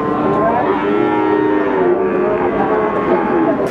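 Cattle moo loudly and continuously at a cattle market, several animals calling close by in overlapping drawn-out lows with a faint voice underneath.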